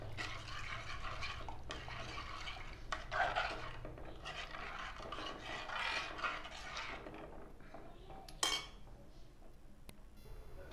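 A spoon scrapes and stirs sardine chili curry in a pan, making irregular, close rasping and clinking strokes over a low background, with a sharper clatter near the end.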